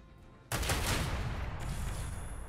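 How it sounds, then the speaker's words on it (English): In the Warhammer 40k Rogue Trader video game, a space battle ship weapons salvo erupts suddenly as a loud booming barrage of rapid blasts, sustained and rumbling for two seconds. "Another salvo."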